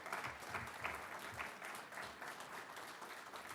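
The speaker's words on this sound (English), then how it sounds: "give them a round of applause, please" A crowd applauds at a parking garage groundbreaking ceremony, continuous even clapping heard from some distance, quiet overall and without voices.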